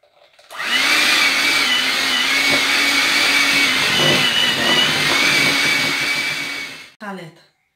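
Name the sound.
mixing apple cake batter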